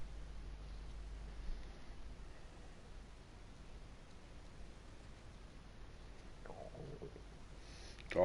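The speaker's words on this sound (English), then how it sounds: "Oh, listen to that stomach." A video game character's stomach growls in DayZ, a faint gurgling rumble rising near the end of a quiet stretch of soft background noise, with no talk.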